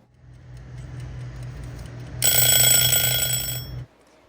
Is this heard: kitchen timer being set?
yes